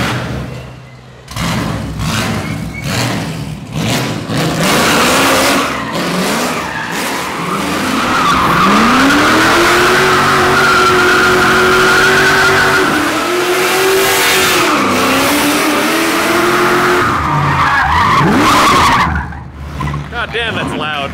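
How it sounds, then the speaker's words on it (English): Widebody BMW E36 engine revving hard near the microphone while doing donuts, tires skidding and squealing in a long continuous roar that rises and falls with throttle, voices faintly underneath. "Pull that thing down, do a warm-up donut."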